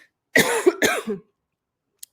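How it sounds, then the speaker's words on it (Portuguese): Two close coughs followed by a short throat-clearing rasp, loud and near, then silence. "espera aí que eu vou tossir"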